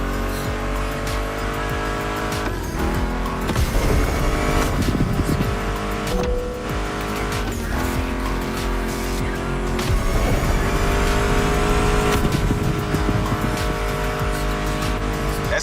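A Ford Mustang GT muscle car engine in a racing video game, revving and shifting through gears over a music soundtrack, with tire squeals and engine roar that rise and fall steadily throughout.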